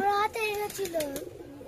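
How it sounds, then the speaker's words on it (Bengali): A pet pigeon, a red female, gives a short burst of soft, throaty coos up close in a quiet indoor setting, the calls gliding and fading within a couple of seconds. "এই যে আমারই পায়রা।"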